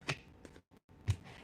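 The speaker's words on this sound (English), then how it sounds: "Hands clap," Hand claps in a quiet room, three or four sharp, fairly close claps spaced unevenly across a brief pause.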